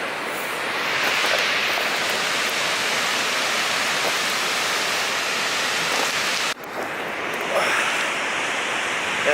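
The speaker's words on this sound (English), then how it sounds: "This is Skogafoss waterfall." Skogafoss waterfall in Iceland roars as a steady, loud, broadband rush of falling water close by, with a brief dip in level partway through before the heavy spray noise resumes.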